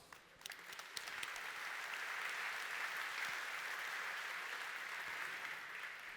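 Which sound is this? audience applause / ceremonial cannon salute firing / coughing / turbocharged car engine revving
audience applause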